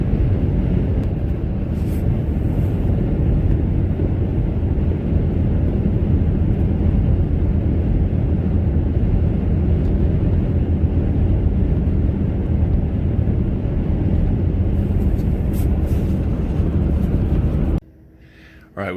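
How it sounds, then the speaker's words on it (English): A loud, steady roar of an airplane on a flight to Japan fills the cabin almost unbroken, a constant low rumble with a faint hiss on top that cuts out abruptly near the end. "taking the plane out to Japan"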